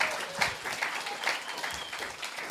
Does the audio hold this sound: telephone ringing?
no